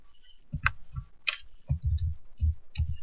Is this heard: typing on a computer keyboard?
yes